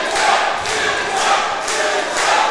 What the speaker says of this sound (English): Crowd going crazy for Semsei in the early going.